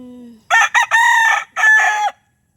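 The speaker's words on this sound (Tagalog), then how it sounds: "Ay, rooster pala." A rooster crows loudly and close, a multi-part call of several harmonic bursts with a brief break before the final drawn-out note, standing alone without talk.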